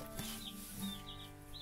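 Broody hen in a chicken pen giving soft low clucks, two brief quiet calls about half a second apart over a faint steady background hum.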